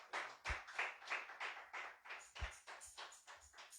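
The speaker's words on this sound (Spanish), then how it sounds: "Dele fuerte aplauso al Señor." Church congregation applauding for the Lord during a Spanish-language sermon, a steady run of rhythmic clapping at moderate level with a few sharper accented claps.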